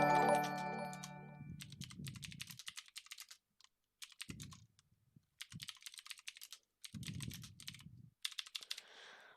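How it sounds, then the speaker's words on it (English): Typing on a computer keyboard: quick bursts of crisp key clicks separated by short pauses, close and clear, opening with a brief bright chime-like tone and ending on a soft jingle. "I'm just typing it."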